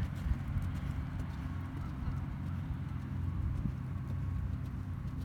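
Horse hooves clip-clop steadily while a horse is ridden bareback without a bridle during a cross-country schooling warm-up, a continuous rhythmic patter close by under low ambient rumble.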